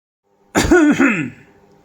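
A single person clears their throat once, a short rough rasping burst that is close and loud, then trails off quickly into silence.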